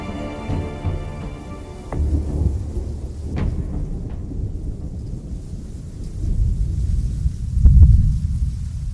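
A thunderstorm in the video game Ash of War: rain hisses steadily while thunder rumbles and cracks several times, swelling into a loud, close roll near the end.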